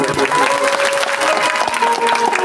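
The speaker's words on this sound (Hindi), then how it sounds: "एक बार कलाकारों को भी ताली बनती है" Audience clapping for performers at a Hindu devotional music event, brisk close applause mixed with sustained musical tones.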